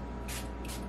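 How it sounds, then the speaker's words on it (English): Quick pumps of a spray bottle misting facial toner onto a face, two close hissing bursts and a shorter third, over steady background hiss. "I like to spray my toner on my face as opposed to putting it in my hand and patting it in."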